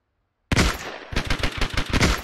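Automatic machine gun fire in the World War II shooter game Hell Let Loose: a sudden loud burst of rapid, evenly spaced shots, close by, after a moment of silence.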